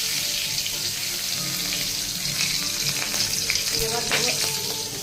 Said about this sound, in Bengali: তেজপাতা, লবঙ্গ, এলাচ, দারচিনি ফোড়ন দিয়ে দিচ্ছি